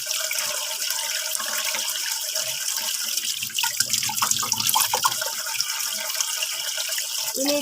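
Running water from a tap splashes steadily as a plastic brush is rinsed and scrubbed under it, with brief clattering and rubbing midway through a continuous close-up flow.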